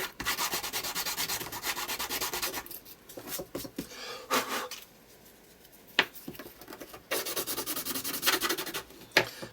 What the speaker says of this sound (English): I think sometimes it is actually quicker to use sandpaper rather than an emery board.